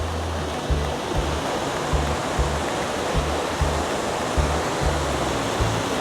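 Mini waterfall at Krueng Kaleung in Lamno, Aceh Jaya, gives a steady, full rush of falling water close by, continuous and even with low churning pulses beneath, and no voices.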